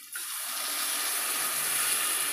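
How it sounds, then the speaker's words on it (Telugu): Water poured from a container into a cooking pot while making puri curry, a continuous, bright rushing splash that starts abruptly and holds steady close by, with no talk. "వాటర్ వేసుకుందామా"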